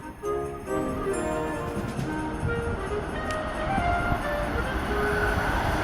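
Amtrak Acela Express high-speed train, with a steady loud rumble and rail noise, a brief louder burst near the start, then continuous rolling sound throughout with no talk.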